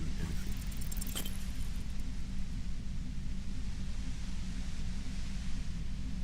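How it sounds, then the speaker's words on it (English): Compressor droning in the video game Disco Elysium, a dense, steady wash of low rumble and hiss that fills the whole stretch, with a brief sharp clatter near the start and no speech. "The violet white noise becomes even more overwhelming closer to the compressor."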